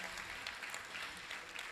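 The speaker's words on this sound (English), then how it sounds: "Round of applause for our ERD students." Applause from an audience at a college graduation ceremony, a steady wash of many hands clapping, faint and distant throughout.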